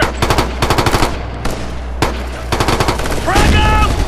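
Enemy machine gun fire in the video game Ghost Recon: Future Soldier, a rapid run of loud bursts with short pauses between volleys, near and dominant, with a brief shouted voice near the end.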